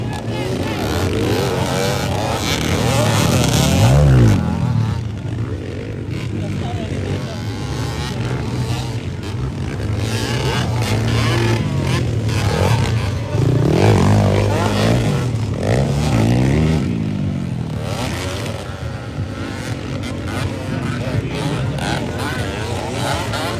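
Motocross bikes racing in a local enduro final heat in Quezon, Bukidnon, their engines droning and revving steadily throughout, with loud swells as riders pass close, while a commentator's voice runs over the noise.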